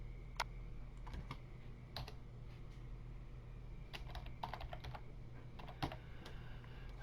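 Typing on a computer keyboard while renaming a file, quiet irregular bursts of key clicks with pauses in between, close by in a calm room with no talking.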